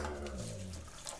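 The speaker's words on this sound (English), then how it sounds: "And then you add water," Water pours steadily into a pot for cooking quinoa, a continuous close rushing splash with no break for just over a second.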